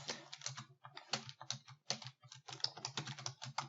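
Rapid typing on a computer keyboard, a close, steady clatter of keystrokes in quick bursts with brief pauses and no talking.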